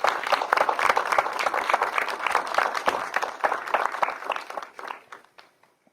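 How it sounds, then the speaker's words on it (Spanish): An audience at a science talk claps to welcome the speaker, a dense burst of steady applause lasting several seconds before tapering off to quiet. "Un aplauso, por favor, para darle la bienvenida."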